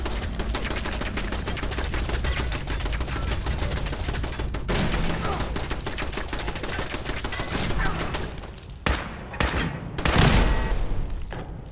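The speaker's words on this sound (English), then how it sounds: "There's a sneaky turret just waiting to ambush us around this corner." Rapid turret gunfire in Fallout 4, a dense sustained fusillade of loud shots for most of the stretch, then a few separate heavy blasts near the end.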